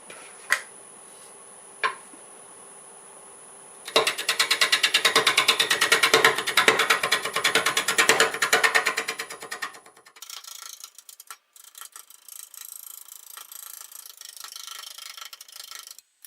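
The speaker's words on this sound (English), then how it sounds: "see how we can do with this homemade negative rake scraper" Homemade negative rake scraper cutting a multi-axis wood bowl on a lathe, a dense rapid chattering rattle for several seconds after two isolated clicks, then a lighter irregular ticking as the cut eases.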